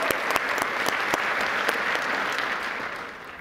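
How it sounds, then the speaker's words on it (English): Audience applause for Sam, a graduate of UCCS, at an economic forum: a steady wash of clapping from a crowded room with a few sharp nearby claps, holding strong before easing off toward the end. "How about a big round of applause for Sam, a proud graduate of UCCS"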